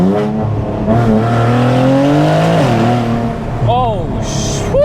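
Infiniti Q60 with Z1 turbos on its stock motor, tuned to roughly 740 wheel horsepower, revs hard through the gears. The engine note climbs in steady sweeps with brief dips at the shifts, loud and close throughout.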